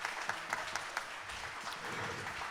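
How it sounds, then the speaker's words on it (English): Steady, fairly faint applause from the audience at a jazz festival held at an art museum, greeting young jazz musicians, a soft continuous wash of many hands heard from a distance. "So would you please give these young gentlemen another round of applause?"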